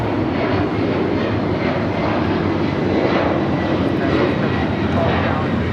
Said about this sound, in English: 939 taking off to JFK on the 767-300ER.